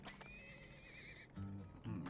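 A horse in the video game Turmoil gives a short, faint whinny, followed by a couple of low clip-clop hoof sounds.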